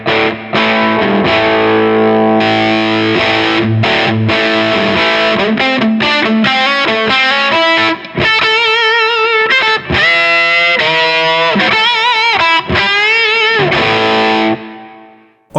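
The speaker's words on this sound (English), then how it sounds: "I could just push like a lower gain sound into my normal channel" Lower-gain overdriven electric guitar pushed into an amp's normal channel for a Dumble-style tone, loud and close, played as chords and single-note phrases with brief pauses and a final fade.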